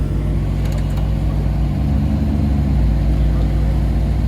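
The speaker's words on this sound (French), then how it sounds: "Il y a une MC Stradale qui arrive." A Maserati MC Stradale at a supercar gathering gives off a steady, deep engine rumble with a constant low drone. The rumble is fairly loud and close, with faint background chatter.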